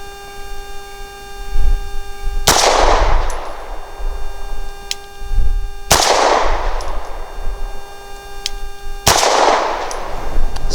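Three sharp shots from a Walther P5 pistol firing 90 grain Winchester Super Clean rounds, each loud crack followed by a ringing decay, spaced a few seconds apart over a steady background tone.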